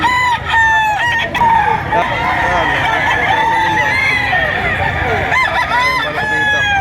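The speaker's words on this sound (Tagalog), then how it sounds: "kung saan ang dalahan ng mga quality mga manok" Several gamecock roosters crow loudly and repeatedly, overlapping one another, with clucking fowl and a busy crowd murmuring underneath throughout, at a rooster market in Lipa, Batangas, Philippines.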